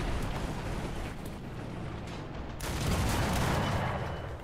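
Gunfire and tank cannon shots from a War Thunder battle with a ZUT-37 facing a Matilda, a dense continuous barrage of blasts and rumble that swells louder toward the end, with no voices.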